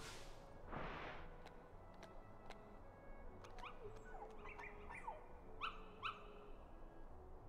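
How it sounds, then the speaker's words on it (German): Dogs in Kingdom Hearts give a few short barks and yips followed by higher whimpering cries, moderately close over a soft game ambience with no talk. "Wieder ein paar Hunde."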